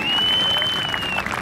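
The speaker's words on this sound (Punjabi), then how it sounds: "ਤਾੜੀ ਮਾਰੋ" Crowd clapping at a Pakistani kabaddi match, a dense burst of applause lasting just over a second, fairly loud and steady with a faint whistle-like tone running through it.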